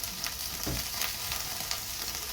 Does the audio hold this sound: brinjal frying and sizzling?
yes